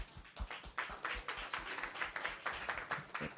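Faint, distant applause at a conference session, a quiet patter of hand claps with a loose irregular rhythm and no talking.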